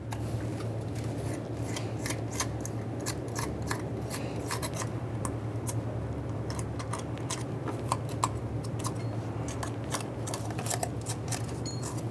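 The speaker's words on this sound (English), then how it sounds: "We'll just carefully try to brush them right on out of there." A brush scrubs debris out of the valve cover ports on a 2.3L four-cylinder 1998-2011 Ford Ranger engine, making many quick, sharp, scratchy strokes and ticks in an irregular rhythm over a low steady hum.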